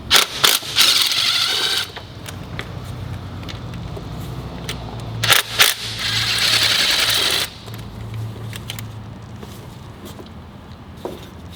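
Ratcheting clicks of a 10mm swivel socket loosening bolts on the rocker area of a 2019 Ford F150 5.0 engine, in bursts of quick metallic ticks with pauses and a few sharper clanks, close and alone.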